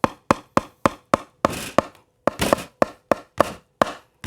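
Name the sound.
pupil imitating a carpenter's sound with waste materials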